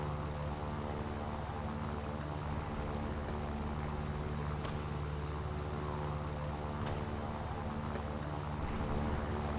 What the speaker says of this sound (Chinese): 是台双翼机没错吧？是啊，是一台双翼机。